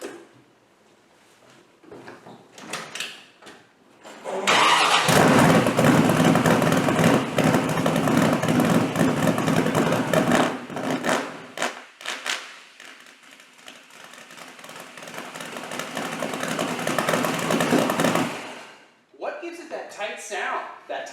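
A 660hp 1968 Camaro engine turns over and catches, then runs loud and close for about fourteen seconds with a rough, choppy idle and small rises in revs before it shuts off. People talk before and after it runs.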